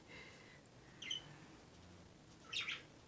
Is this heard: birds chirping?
yes